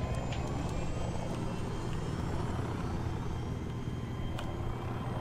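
Helicopter engine in the video game Battlefield 3, a steady low droning rotor and turbine whine, continuous and fairly faint with a few brief clicks, no talking.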